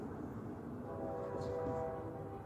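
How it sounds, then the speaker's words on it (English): A train passing by, a steady low rumble with rail noise that holds at a moderate distance throughout. "Then the train goes off."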